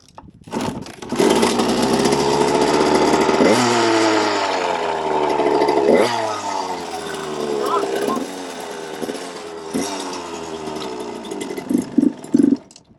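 Suzuki RM125 two-stroke dirt bike engine, leaking fuel, running loud and close with buzzing revs that rise and fall in several throttle blips, while people talk over it.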